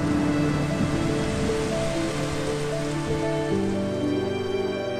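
Steady rain falls on a surface, a dense continuous hiss and patter that stays loud and even throughout, with no voices.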